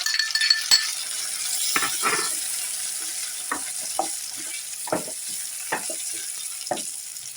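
Onion and tomato puree frying in a pan with a bay leaf, a steady sizzle running throughout under repeated scraping and clinking stirs of a spoon against the pan.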